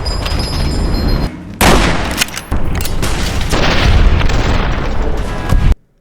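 A loud gunfight in Fallout New Vegas, with booming shots and bursts of gunfire over a dense battle din, several sharp blasts standing out before the sound cuts off.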